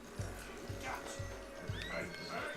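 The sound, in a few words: horse neighing and hooves in a cowboy video game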